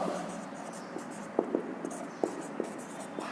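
A pen writes out a maths solution on paper, making soft, continuous scratching strokes with sharper taps at irregular intervals, close and fairly quiet, with a faint voice now and then.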